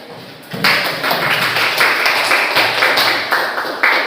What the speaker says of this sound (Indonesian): silakan tepuk tangan untuk Dali